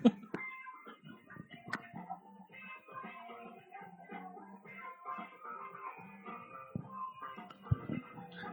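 A cat meows softly and repeatedly in a quiet room, with small rustles and bumps between the calls and no one talking.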